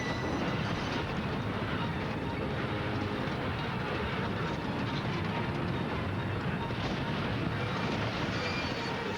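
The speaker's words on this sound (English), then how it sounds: "The train doesn't stop. It keeps going on the dirt for hundreds of feet." A derailed heavy train grinds and plows through dirt and ballast in the Granville train crash, a dense, continuous roar and rumble that stays loud throughout with no voices.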